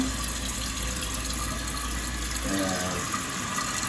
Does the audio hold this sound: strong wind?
no